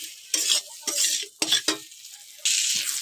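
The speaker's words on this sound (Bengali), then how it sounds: "মশলাটা দিয়ে কষিয়ে নেবে।" Spice masala with cauliflower and potato is stirred in a hot pan, sizzling loudly in bursts as a spoon scrapes and turns it, with short quiet gaps between strokes.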